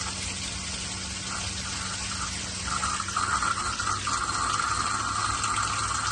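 Water gushes steadily from an RV bathtub faucet in a travel trailer as air is purged from the line, a continuous hissing splash that grows slightly louder and sputters partway through.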